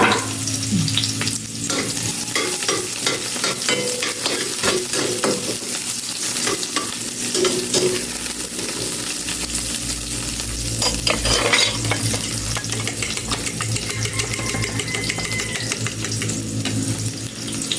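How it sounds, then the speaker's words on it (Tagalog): Food being sautéed in a frying pan, a steady close sizzle with repeated scraping stirs of a utensil throughout, loud and continuous with no talk. "Igisa."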